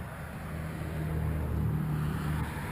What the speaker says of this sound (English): Customer complaint, as they say, is it idles like crap.